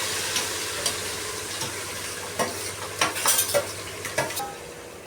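Onions and garam masala fry in a pan for Kathiyawadi pav bhaji, giving a steady soft sizzle under scattered scraping stirs of a utensil against the metal, heard close with no talk.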